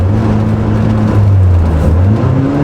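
A 1990 BMW M3 driving in third gear, its engine giving a loud, steady low drone with a constant tone that rises slightly partway through, heard from inside the car with no talk.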